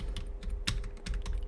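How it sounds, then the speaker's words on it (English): Fingers typing on a computer keyboard, a quick uneven patter of soft clicks close to the mic with a faint steady hum underneath. "Let's say I am typing here a nursery poem."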